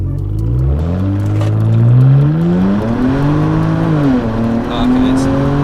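BMW with an N54 engine on an MHD tune accelerating hard from a standstill in a 0-100 km/h run, engine note climbing steadily through the gears with brief dips at shifts, loud and close from inside the cabin.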